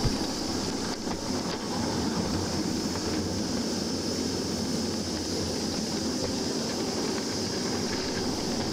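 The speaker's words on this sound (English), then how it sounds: "The train is slowing to negotiate the points into the passing loop." A train at Scarle Junction slows over the points into a passing loop, giving a continuous rumbling roll with faint wheel clatter near the start, no voices.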